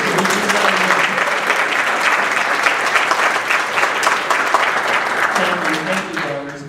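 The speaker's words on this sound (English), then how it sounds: "These people that stood up are giving you all money, so they deserve a really good round of applause." Sustained audience applause for scholarship donors at a scholarship awards program, dense and steady for several seconds before tapering, with voices murmuring underneath.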